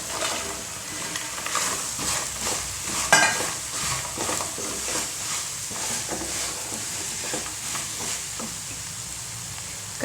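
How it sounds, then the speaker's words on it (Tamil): Pasta frying in a pan with chilli powder is stirred steadily, a continuous close sizzle broken by repeated scraping strokes of the spoon against the pan, with no voices. "மல்லித்தலையும் சேர்த்து கிண்டிடலாம்."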